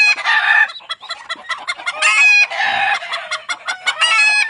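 A native red junglefowl (manok labuyo) clucks and calls close by in a rapid run of bright, repeated notes, with short pauses between bursts.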